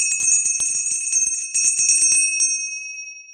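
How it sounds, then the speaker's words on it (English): Sharp bright bell at a live auction, struck in a quick run of about a dozen rapid dings that then ring out into a long, steady shimmering tail, loud and close with no talk. "The long bell is always a cool bell."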